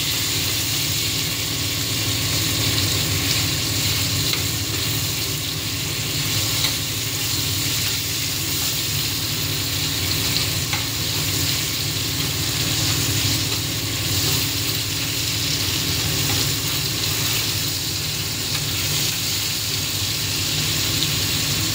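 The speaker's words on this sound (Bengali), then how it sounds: "টমেটোগুলোকে ভালো করে কষিয়ে নিতে হবে যতক্ষণ না টমেটো থেকে একটু তেল ছেড়ে ছেড়ে আসবে।" Chopped tomatoes cooking down in oil for a Bengali mustard-style fish curry with green chillies, giving a steady, even sizzle with a constant low hum under it and no talking.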